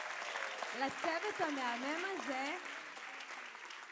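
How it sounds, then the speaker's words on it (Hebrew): Audience applause at an end-of-year show by young dance troupes, a steady clapping wash running beneath someone speaking close to the microphone, thinning toward the end. "אז נראה לי שאני אמחה לכולן פה כפיים"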